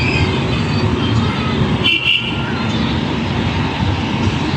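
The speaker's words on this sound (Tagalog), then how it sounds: "dumaan pa yung train sa taas" A train rumbles past overhead on an elevated track beside a garbage-choked shoreline, a loud continuous rolling noise with a brief metallic squeal partway through.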